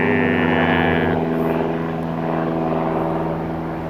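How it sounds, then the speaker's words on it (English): A propeller airplane at an airport drones loudly and steadily nearby, its engine hum holding throughout with a slight easing in intensity as it passes. "Sorry for the airplane, guys,"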